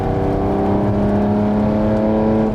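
A Hyundai Genesis 3.8 R-Spec V6 held at high revs, a loud continuous throaty engine drone with strong steady harmonics and no talking.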